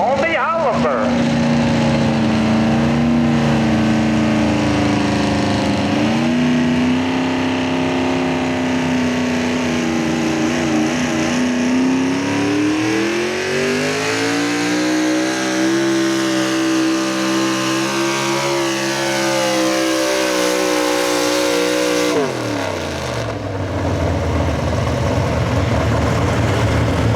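Oliver pulling tractor at a night truck and tractor pull event, engine screaming at its 7,000 RPM governed limit, a loud sustained high-pitched wail that rises and shifts pitch before cutting off abruptly near the end, with an announcer talking over it.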